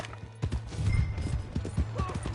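In the Red Dead Redemption 2 video game, a horse's hooves clip-clop in a quick, uneven trot, close and moderately loud under a low background rumble.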